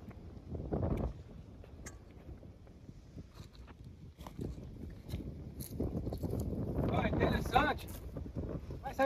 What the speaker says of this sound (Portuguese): aqui tá ventando muito aqui agora